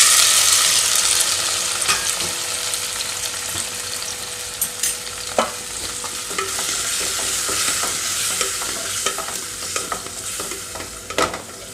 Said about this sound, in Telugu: ఇందులోనే టమాటా ముక్కలు యాడ్ చేస్తున్నాను.